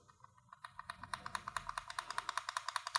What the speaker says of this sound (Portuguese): Se eu apertar forte ele faz um barulhinho